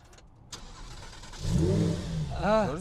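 A Lamborghini or Ferrari sports car engine cranks and catches after a brief pause, then revs up in two rising, sweeping bursts that grow loud and close.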